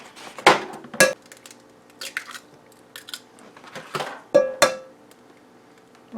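Six large eggs are cracked into a mixing bowl, with a series of sharp, close taps and cracks against the rim, some in quick pairs, separated by short quiet gaps.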